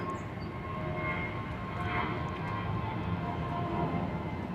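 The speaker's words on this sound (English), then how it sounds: "Brief look at that Southwest jet as it departed" Southwest Airlines jet departing Atlanta's airport, a steady distant roar of jet engines with a broad rushing wash, holding level throughout with no talk.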